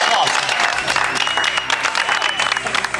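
Studio audience applauding on a televised cooking competition, a dense burst of clapping close by that rises and fades over a few seconds, with a host's voice talking over it.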